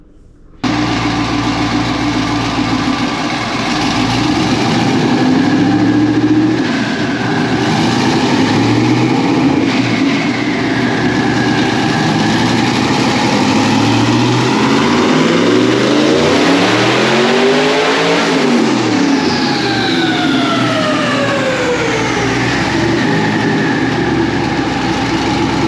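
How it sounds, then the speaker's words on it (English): A twin turbo car engine on a dyno revs hard and steadily for about 25 seconds, its pitch sweeping up through the gears and peaking near the end before a quick drop. It is loud and close, with no voices. "check out that final dyno run"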